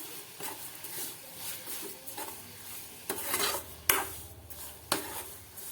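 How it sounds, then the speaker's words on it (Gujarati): Sugar being stirred into bottle gourd halwa in a pan, with a steady scraping and swishing of the spoon, soft clinks against the metal and a few sharper knocks, close up and without talk. "ખાંડને પણ આપણે સારી રીતે મિક્સ કરી દઈશું"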